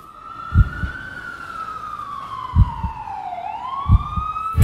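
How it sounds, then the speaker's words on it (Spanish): A wailing ambulance siren slowly rises and falls, sustained and fairly close, with periodic low thumping beats underneath. "Aquí por la noche esa ambulancia suena en gritos de un barrio"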